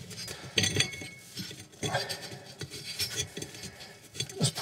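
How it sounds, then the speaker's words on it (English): An oven fan blade is pushed back onto its metal shaft, making close, irregular metallic clinks, taps and scraping that come and go for a few seconds with no talking. "So I'm now going to push the fan blade back on."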